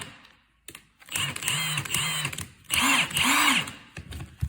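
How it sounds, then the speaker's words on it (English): A Milwaukee cordless impact wrench spins up in two loud, close bursts with a rising whine, separated by a brief pause, and no one talks over it. "an impact wrench, an impact ratchet that can take off freaking lugs on tires"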